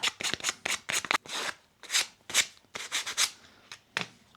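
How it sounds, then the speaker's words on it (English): Sanding the edge of a homemade climbing hold by hand produces quick, rhythmic rasping strokes, about a dozen bursts in short runs with brief pauses, close and fairly loud. "We gotta sand this edge down,"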